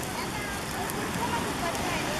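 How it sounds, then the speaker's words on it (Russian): Maslenitsa straw effigy burning in a bonfire on a beach, a steady broadband crackling roar with wind, while people talk nearby. "Ой, как она горит-то ярко!"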